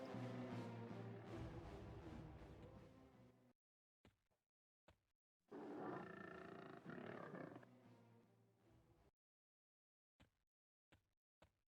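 Big cats roar in the fantasy game EverQuest, with two long, loud, growling roars separated by silence and followed by several short clicks and thuds of combat.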